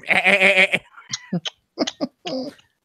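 A goat bleats in a long, loud, wavering cry, then gives several shorter, quieter bleats with pauses between them.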